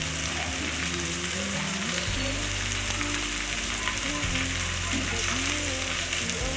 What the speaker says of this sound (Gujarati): ભીંડો ચડા દેવું.